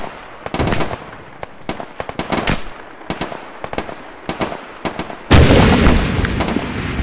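A grenade explodes in the military shooter ArmA III: scattered sharp gunfire cracks lead into a sudden heavy blast that leaves a loud rumbling tail to the end.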